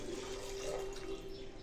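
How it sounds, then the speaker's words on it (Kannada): Water pours steadily into a pressure cooker holding bottle gourd, a short continuous trickle with a faint ringing tone. "ಇದಕ್ಕೆ ನೀರು ಹಾಕೋತಿದ್ದೀನಿ"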